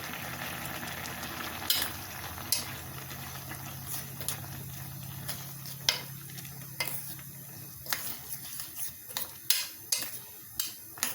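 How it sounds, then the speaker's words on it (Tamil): Ground masala paste goes into a simmering pumpkin gravy, bringing a low bubbling simmer under a run of sharp spoon clinks and scrapes against the pot that grow more frequent toward the end. "இப்போ அரைச்சி வச்சுருக்க பேஸ்ட்டை போட்டுடலாம்."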